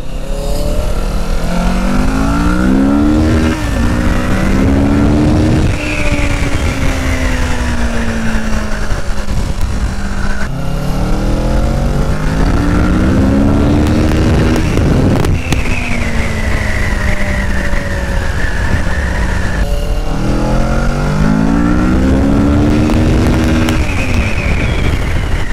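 A Kawasaki Ninja 650 sports-tourer motorcycle accelerates hard from the rider's position, its loud engine climbing through the revs in repeated rising sweeps with brief drops at each gear shift, under constant wind roar.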